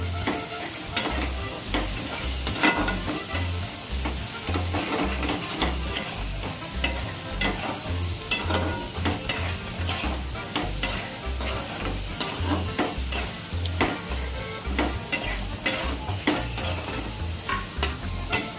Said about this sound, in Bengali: দিয়ে না এটাকে আমি একটু কষাতে থাকবো।